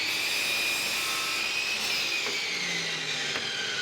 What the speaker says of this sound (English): The stop blocks on my miter station make cutting these quick and easy.